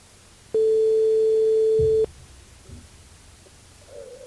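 A telephone call's ringing tone sounds once as a single steady electronic beep lasting about a second and a half, followed by quiet line noise and faint background sounds during a live TV and radio broadcast.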